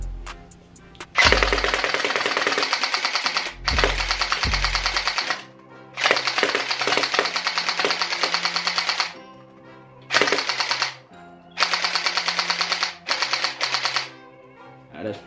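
A Glock-style gel blaster with a spring, fitted with a drum and extended magazine, fires in loud, rapid bursts of clattering shots separated by short pauses.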